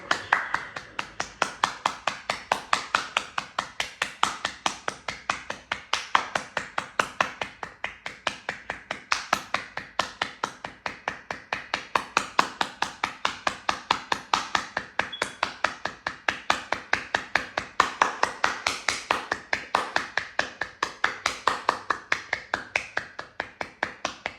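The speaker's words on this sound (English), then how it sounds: "Breathe out and clap." Steady, rapid hand clapping performed as part of a yoga pranayama breathwork exercise, sharp claps repeating continuously at an even rhythm, close and fairly loud, with no talking.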